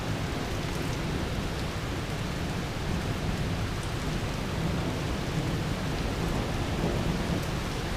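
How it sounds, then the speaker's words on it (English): Heavy rain pours down steadily during a derecho storm, a dense continuous roar of water with a low rumble underneath, loud and unbroken throughout. "Torrential downpour."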